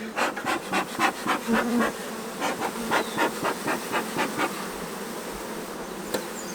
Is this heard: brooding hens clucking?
no